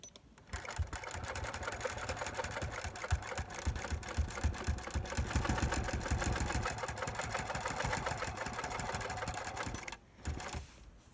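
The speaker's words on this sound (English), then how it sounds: "And now I'm going to sew where I want to sew." A sewing machine on a Cutie quilting frame does free-motion quilting, its steady, rapid close-up stitching hum running almost unbroken before stopping briefly near the end.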